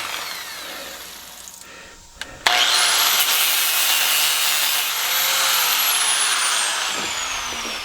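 A saw cuts through brass plumbing scrap. After a quieter stretch it starts abruptly and keeps up a loud, continuous high grinding whine that wavers in pitch. No one speaks.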